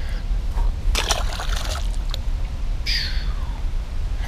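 A released bass splashing into deeper lake water near the bank, a couple of close sloshing splashes and trickles over steady outdoor background noise.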